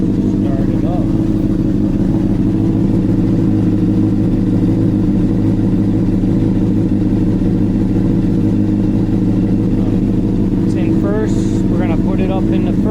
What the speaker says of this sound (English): So we're gonna turn the bike on. It's gonna be loud, guys, so prepare yourself. Bike is in neutral. Start it up.